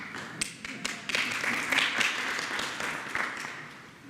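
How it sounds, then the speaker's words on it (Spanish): Applause from attendees at a health staff meeting, a short burst of scattered hand claps with sharp individual taps rising and fading over a few seconds, moderately loud in a room. "Aplauso."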